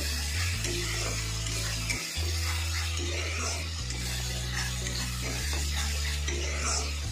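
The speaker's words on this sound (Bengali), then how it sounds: "হলুদ দিয়ে ভালো করে নাড়াচাড়া করে" Chicken with turmeric for coriander chicken is stirred in a pan, giving a continuous low sizzle with scraping utensil strokes, close but fairly quiet, over a steady low electrical hum, with no one talking.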